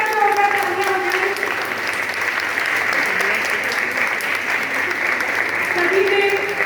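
Audience applause after a children's stage play about Bhagwan Parasnath, sustained dense clapping from a crowd that holds steady for several seconds, with faint voices mixed in.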